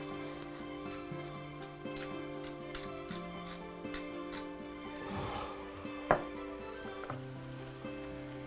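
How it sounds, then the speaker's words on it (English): A burger patty fries in a pan with a steady, close crackling sizzle, plus a brief clink of a utensil against the pan near the end, no talking. "You can see that starting to sizzle here."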